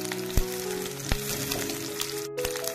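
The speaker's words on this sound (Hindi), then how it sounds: "कढ़ाई चढ़ा दी हूँ, इसमें डाल देंगे 2 चम्मच ऑयल। यहाँ मैंने 2 रफली प्याज ले ली हूँ" Two roughly chopped onions frying in two spoons of oil in a kadai, a steady close sizzle with a few sharp spoon or pan clinks, no voices.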